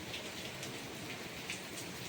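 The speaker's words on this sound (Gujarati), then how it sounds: "કેટલો બધો વરસાદ આવે છે બહુ જ આવે છે" Steady heavy rain pours down at night with wind, a dense continuous hiss of drops with no voices.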